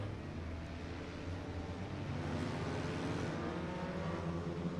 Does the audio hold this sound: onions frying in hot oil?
no